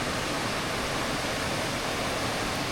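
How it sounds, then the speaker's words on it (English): A waterfall and the stream feeding it, swollen after a heavy rain storm, give a steady, loud, unbroken rushing roar with no voices over it. "And that waterfall opposite, that stream coming into it, there was a trickle yesterday."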